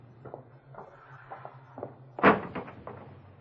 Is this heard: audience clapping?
no